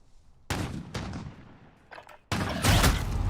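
Gunfire in Call of Duty, a loud sharp shot opening a burst of reports that tails off, then a heavier, louder volley of shots near the end, with no voices.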